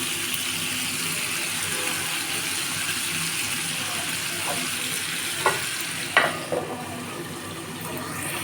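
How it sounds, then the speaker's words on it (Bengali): Chicken shashlik pieces sizzle steadily in a pan, with a few sharp clinks and scrapes near the end as they are turned over; no talking. "এভাবে এপাশ ওপাশ করে উল্টে পাল্টে ভেজে নিতে হবে"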